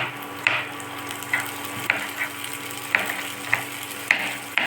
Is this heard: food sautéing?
yes